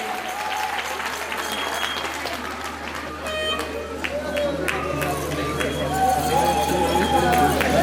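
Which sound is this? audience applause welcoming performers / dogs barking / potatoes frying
audience applause welcoming performers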